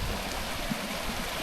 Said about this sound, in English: Creek crossing.